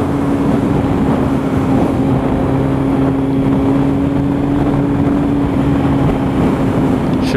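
A 2008 Kawasaki Z1000 motorcycle fitted with a Danmoto Carbon GP exhaust rumbles at a steady, even drone, close and loud, with wind buffeting the microphone and traffic around.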